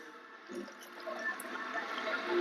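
Water poured into a scoop of protein powder, a short close splash giving way to a steady faint trickle and liquid gurgle, with no talking.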